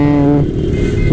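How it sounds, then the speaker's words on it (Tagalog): A Raider 150 motorcycle rides at night through heavy traffic near Gate Plaza. Its engine gives a steady, loud hum that starts with a clear tonal whine and then turns into a rougher, broader rumble, with no talking. "Sama natin ang ating pinakamamahal na motor, ang ating Raider 150."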